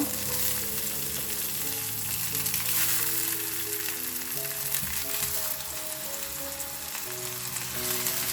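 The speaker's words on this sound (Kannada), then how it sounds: "ಫ್ಲೇಮನ್ನು ಲೋ ಅಲ್ಲಿ ಇಟ್ಕೊಂಡು ನಾವು ಕಟ್ ಅಂತ ಟೊಮ್ಯಾಟೋನ ಇದ್ರ ಒಳಗಡೆ ಇಟ್ಕೊಳ್ಳೋಣ" Halved tomatoes frying cut-side down in a pan over a low flame, giving a steady, close sizzle that holds evenly throughout with no talking.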